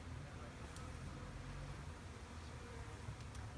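Honey bees buzz steadily around an open hive during a split at a bee farm, a faint continuous drone with low background noise and speech mixed in.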